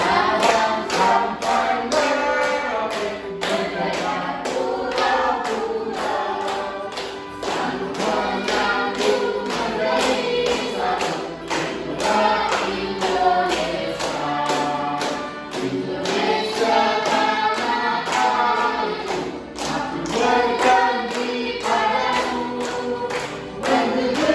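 Students in a classroom clap their hands in a steady rhythm through a continuous stretch of singing or music, the claps fairly loud and even throughout.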